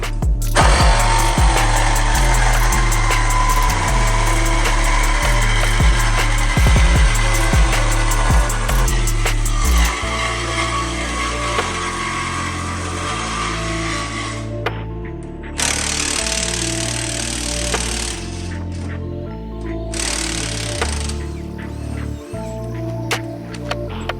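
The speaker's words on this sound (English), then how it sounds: "grab the Sawzall and cut this off so we can get this last bolt out" A Sawzall reciprocating saw cutting off a metal shield on a Ford F150 Tremor, with a loud, continuous buzzing rasp that shifts pitch as the blade works, close and sustained.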